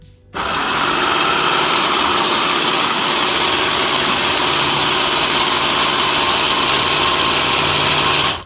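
A black Kalorik CMM 39732 BK two-speed hand blender runs on its single speed setting, a loud, close, steady high-pitched motor whir that starts abruptly and holds evenly for several seconds before stopping.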